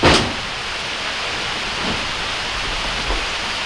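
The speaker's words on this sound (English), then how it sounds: "Little rain atmosphere going on." Rain falls outdoors at an event in a steady, loud hiss of drops on surfaces, with a faint low rumble in the background and no voices.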